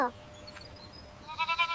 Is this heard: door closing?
no